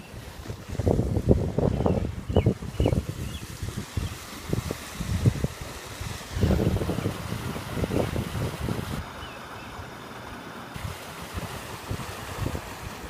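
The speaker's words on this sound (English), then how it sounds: "Just look how fast the creek is moving." Fast-moving floodwater in a swollen creek rushes and churns in a steady broadband roar, with wind buffeting the microphone in bursts; no voices.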